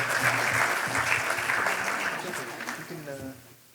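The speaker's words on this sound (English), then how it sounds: "And please give them a round of applause." An audience at a young professionals' masterclass event applauds teams being introduced, steady clapping that fades toward the end while voices speak underneath.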